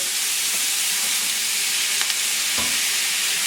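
Shrimp curry ingredients hit hot browned oil in a pot and fry with a loud, steady, close sizzle, a dense hiss that holds throughout with faint stirring clicks and no talking.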